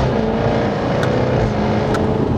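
A Jaguar F-Type V8 rumbles loudly at close range, its deep exhaust note steady with two sharp, brief pops cracking out about a second apart.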